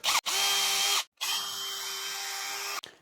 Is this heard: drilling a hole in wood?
yes